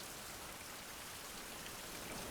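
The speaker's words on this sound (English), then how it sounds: "I mean, it's raining." Steady rain falling in the survival video game Fountain of Youth, a dense, even hiss of drops on surfaces continuing without pause at moderate volume, with no talking.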